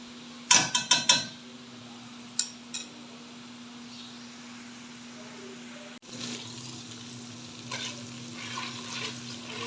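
Ginger and green chillies frying in oil for a bitter gourd masala, a low steady sizzle with a cluster of sharp metal utensil knocks at the start, a few more taps, then louder stirring and scraping.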